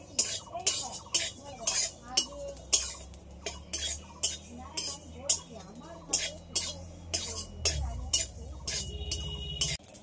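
Cumin and whole spices dry roast in a pan while a metal spoon stirs them in a steady rhythm of scrapes and clinks, about two per second, close and clear with a faint low hum underneath.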